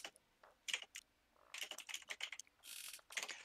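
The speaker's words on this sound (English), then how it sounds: "Sorry for the loud sound on my keyboard." Rapid keystrokes clatter on a Redragon mechanical keyboard during a StarCraft 2 tournament stream, arriving in quick uneven bursts of sharp clicks that are close and fairly quiet, with no talking.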